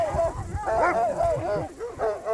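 Livestock guardian dogs protecting a flock bark, yelp and whine close by in rapid, overlapping bursts, loud and continuous, with a voice faintly mixed in.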